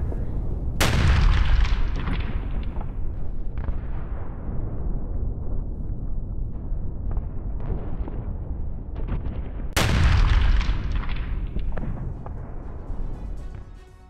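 Two massive booming blasts roughly nine seconds apart, each followed by a long rumbling roll of distant artillery fire, from a strike on a Russian TOS-1A rocket launcher in the Russia-Ukraine war.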